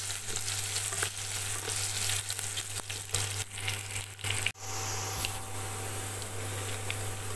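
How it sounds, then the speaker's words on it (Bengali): Diced potatoes and green chillies fry in a pan of oil for semolina upma, giving a steady close sizzle throughout with a brief stirring clatter midway. "আলুটা ভাজা ভাজা হয়ে গেছে।"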